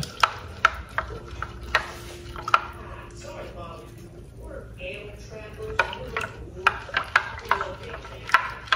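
A spoon stirs cornstarch into lukewarm water for maja blanca, with light scraping and repeated clinks against a bowl, close and moderately quiet, while a person talks briefly.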